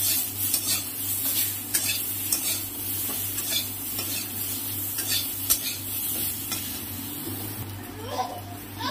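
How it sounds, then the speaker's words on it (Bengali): Potatoes frying in a pan with salt and turmeric, a steady sizzle under repeated scraping and clinking of a utensil stirring against the metal, close and continuous. "এবার একটু আলুটা একটু ভাজা ভাজা হয়ে গেছে"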